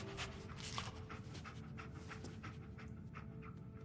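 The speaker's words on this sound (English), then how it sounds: "Dog meat. Get the scent, boy." Dogmeat, the dog companion in Fallout 4, pants steadily and close up for several seconds in a quick, breathy rhythm, with a faint whimper early on and no talking.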